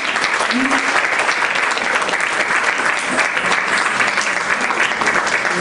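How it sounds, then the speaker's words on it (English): Sustained round of applause from a seated audience at a temple dance program felicitation, dense steady clapping filling the whole stretch, loud and close, with a brief voice in the background. "Big round of applause."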